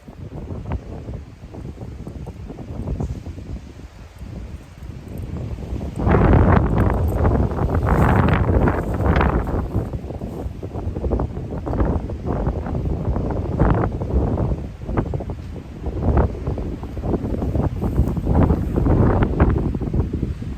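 Gale-force wind roars and buffets against an MSR Access 1 tent during a storm test, a loud continuous rush with surging gusts that grow stronger after the first few seconds.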